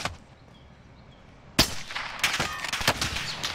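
Gunfire from a Call of Duty sniper fight starts abruptly after a quiet stretch: a sharp loud shot followed by several more cracks and clattering bursts in quick, uneven succession.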